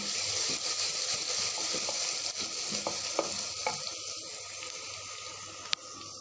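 Onion, ginger, garlic and crushed dried coriander frying in hot oil for a mixed vegetable curry, a soft continuous sizzle with occasional stirring scrapes and a few sharp clinks near the end.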